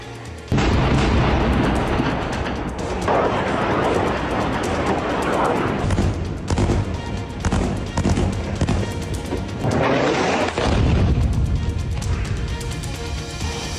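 Bombardment in Gaza during the war: heavy, booming blasts and rumbling crashes follow one another, loud and dense, with a few sharper impacts across the span.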